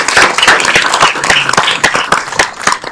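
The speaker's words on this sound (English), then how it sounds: "Let's give them a round of applause" Scattered audience clapping at a city council meeting, a handful of distinct, fairly close claps in an uneven rhythm rather than a full ovation.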